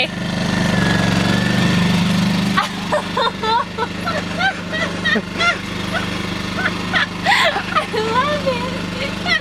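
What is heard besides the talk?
cheap Lowes portable generator engine running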